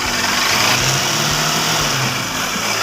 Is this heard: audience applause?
no